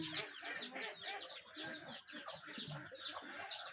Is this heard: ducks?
yes